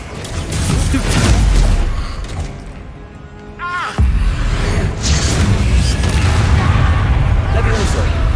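Spell-casting effects in Hogwarts Legacy during a fight, loud whooshes, thuds and booming impacts with a rising whistle, a voice shouting incantations over the bursts.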